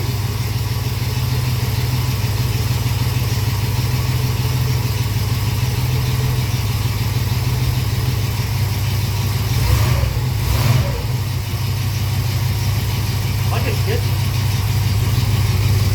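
A 1968 Pontiac Firebird V8 runs steadily just after starting, a loud, constant low rumble throughout, with a brief surge of revving near the middle; voices talk over it at times.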